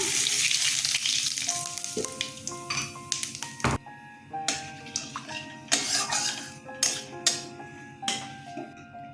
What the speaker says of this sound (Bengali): এই তেলে আমি ফোড়ন দিয়ে দেব জিরে ফোড়ন দিয়ে দিলাম